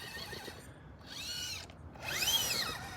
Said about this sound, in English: let's try a little bit of throttle then